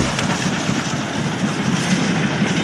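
A Standard 9F steam locomotive passes under a bridge, giving a continuous loud rumble and rhythmic clatter of wheels that stays close throughout, with no voices.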